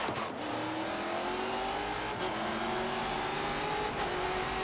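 A Ford race car in Forza 7 revs hard, the engine note climbing steadily through a long gear with a loud continuous roar and a brief dip at a shift, with no talk.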